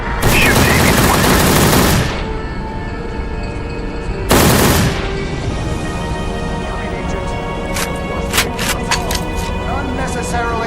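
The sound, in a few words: gunfire in Secret Service PC video game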